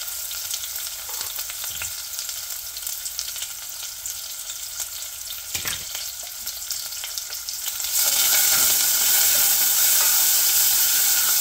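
Onions hitting hot oil with cumin seeds in a pan, a steady crackling sizzle that suddenly swells louder and brighter partway through, close and continuous with no talk.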